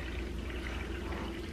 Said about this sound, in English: it's calling for 3 1/3 cup of the white distilled vinegar. So I'm going to pour that in there.